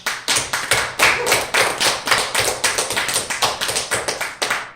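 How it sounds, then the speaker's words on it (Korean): A congregation at a prayer house service claps in unison with a fast, steady rhythm, loud and close, with no voices over it. "하나님께 영광의 박수."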